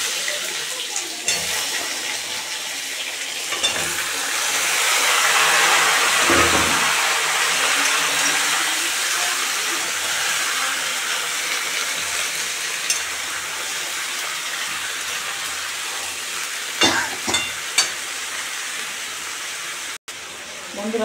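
Vegetables hit a pan of lightly fried ginger, setting off a loud, steady sizzling hiss that swells midway, with a few utensil clinks near the end.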